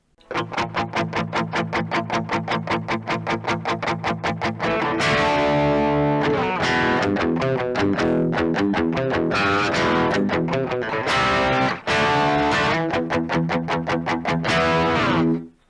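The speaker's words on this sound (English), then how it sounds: "Let's just try that bottom end again with distortion" Distorted bass guitar plays a driving riff, first with rapid repeated plucked notes, then sustained gritty chords, loud and up close with no voices.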